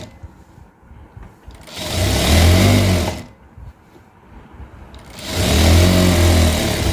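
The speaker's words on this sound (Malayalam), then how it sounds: "കാലിൻ്റെ 2 സൈഡുമായിട്ട് അടിഭാഗം ഒന്ന് മടക്കി അടിച്ചു കൊടുക്കണം." Sewing machine stitching a folded fabric hem: two sustained, steady whirring runs of about one and a half seconds each, close and loud, separated by a short quiet pause with faint handling sounds.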